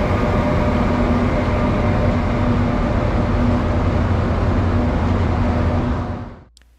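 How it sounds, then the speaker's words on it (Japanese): A loud, steady rumble and roar of a KTX high-speed train running continuously, heard from inside, then fading out abruptly near the end. "KTX はフランスの TGV から技術導入した高速列車で"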